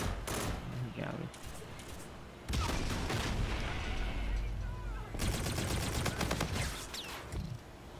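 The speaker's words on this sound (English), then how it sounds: "That was a sniper." Gunfire in an online shooter game, loud cracking shots and bursts of rapid fire in several clusters, with voices talking over the action.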